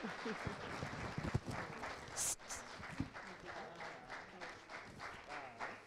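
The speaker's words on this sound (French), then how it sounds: "Ça s'applaudit, s'il vous plaît, les gagnants." Audience applauding the winners at a seventh-anniversary celebration event, a steady wash of clapping from a crowd with voices mixed in throughout.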